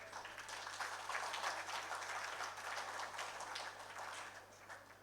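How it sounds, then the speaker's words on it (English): Audience applause at an electronics and communication engineering department workshop valedictory function, a steady wash of many hands clapping that swells slightly around the middle and fades a little toward the end, with a low hum underneath. "A huge round of applause, please."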